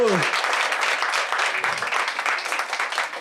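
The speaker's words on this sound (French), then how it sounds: "on peut l'applaudir encore une fois" Comedy-show audience applauding for a woman's birthday, dense sustained clapping that stays loud for the whole stretch, with a brief voice at the very start.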